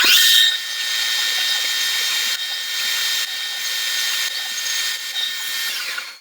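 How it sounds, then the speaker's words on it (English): A drill press whines loudly and steadily, dipping briefly a few times as it bores a hole into material, with no talking. "now we're going to drill 12 deep"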